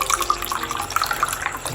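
Drinking water pours into a water bottle as it fills, a close, bubbling gurgle with a splashy, steady flow lasting the short moment.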